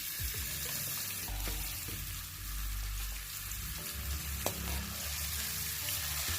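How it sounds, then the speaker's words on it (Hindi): Potato sticks for French fries sizzle in hot oil in a home kitchen, a steady crackling fry running throughout with low clinks and stirring noises underneath and no talking. "अभी इसमें मैंने आलू फ्राई करने हैं फ्रेंच फ्राइज़ की सूरत में"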